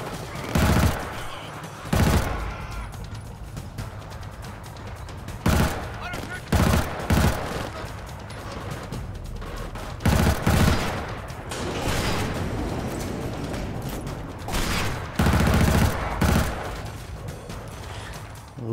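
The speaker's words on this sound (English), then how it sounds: "Love this gun." Bursts of automatic gunfire from a gun in the video game Killzone Shadow Fall, loud rapid volleys recurring every few seconds over a rumbling background, with quieter stretches between them.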